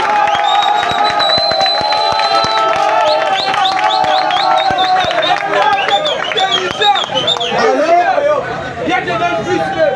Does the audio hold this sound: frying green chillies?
no